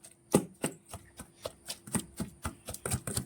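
Ripe mango is crushed together with curry leaves for a chutney, a series of close, regular thuds and squelching pounds, roughly three per second, with no talking.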